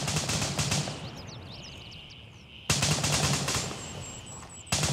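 Automatic gunfire in the tactical shooter Gray Zone Warfare, two bursts of rapid distant shots separated by a quieter gap, heard alone without talk.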